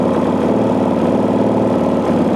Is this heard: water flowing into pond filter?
no